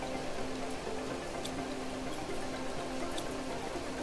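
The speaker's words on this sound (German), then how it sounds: "Es ist halt heftig am Regnen. Der Regen ist fast ein bisschen laut." Heavy rain pouring steadily, a dense, even wash of drops drumming on surfaces, constant and fairly close with no voices.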